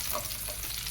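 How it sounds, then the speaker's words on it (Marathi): Cumin seeds sizzle in hot oil for a tempering, a dense continuous crackle close by and fairly loud, with faint stirring underneath. "फोडणी घालताना तेल गरम केले आहे। त्यात थोडे जिरे,"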